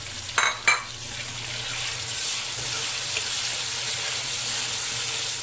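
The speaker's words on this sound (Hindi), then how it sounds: "और इसको भी नरम होने तक भूनते रहेंगे" Tomatoes frying in a pan until soft for a chana dal and spinach dish, a steady soft sizzle running throughout, with two brief clinks of a spoon near the start.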